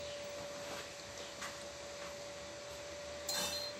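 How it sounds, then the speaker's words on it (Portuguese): A UPS unit, a TS-Shara Prof 2200VA on inverter power, runs its small cooling fan as a steady low whir with a constant tonal hum, faint and even, ending with a brief clatter. "Inverteu, ligou o cooler, tá?"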